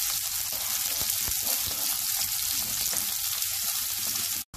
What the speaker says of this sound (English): chopped shallots. Give everything a stir.